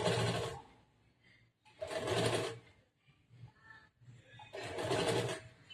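Sewing machine stitching a blouse collar in three short whirring bursts with quiet gaps and faint handling sounds between, close and unaccompanied by talk.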